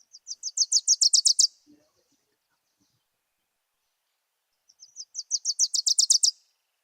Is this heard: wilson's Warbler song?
yes